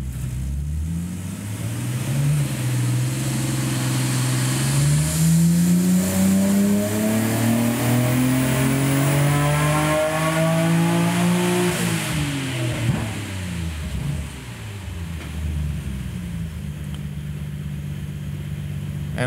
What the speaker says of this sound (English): and we'll run up the car again